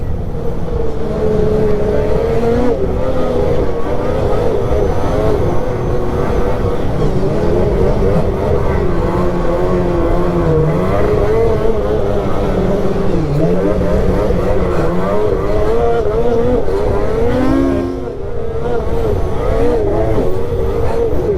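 A Polaris Assault Boost snowmobile fitted with new progressive springs, its engine droning loud and steady with wavering revs throughout, close and continuous with a brief dip near the end.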